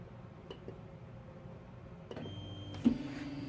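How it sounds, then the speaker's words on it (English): A Tevo Tornado 3D printer homing its axes: faint stepper motor whirs and clicks, then a rising motor hum that settles into a steady tone as the carriage moves, near and quiet. "We're going to home the printer."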